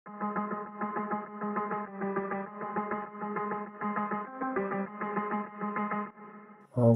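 A filtered, effect-heavy guitar stem from a chill house track plays a repeating rhythmic chord pattern in even pulses, muffled and echoing, alone without any voices.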